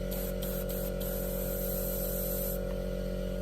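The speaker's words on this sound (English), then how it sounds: "I've used this small can of hairspray for a very, very long time." A small can of hairspray, used as chipping fluid on an F4U-1A model, sprays a continuous, even hiss close by, steady from start to end over a faint low hum.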